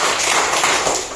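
Third-grade Indonesian schoolchildren clap together in a classroom chant, a dense burst of many hands slapping at once, loud and close, with no voices.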